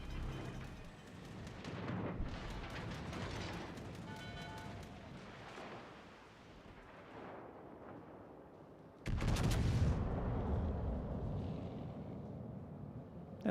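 Naval bombs exploding on a warship in World of Warships: Legends, a dense stretch of booming blasts and rumbling impacts, then a sudden loud burst near the end, with no talk over it.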